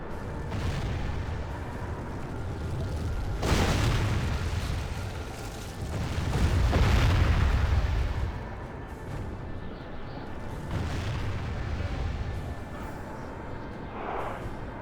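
Troops opening fire in a battle in the video game Medieval 2 Total War, with rumbling volleys and booming bursts rising and fading over a continuous din of fighting.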